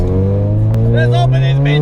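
A car pulls away hard, its engine note climbing steadily and loud close by. Excited voices call out over it.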